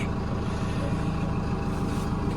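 A new Lovol P4110 tractor rolls forward in first gear, its engine a steady loud diesel rumble with an even low drone and no talk over it.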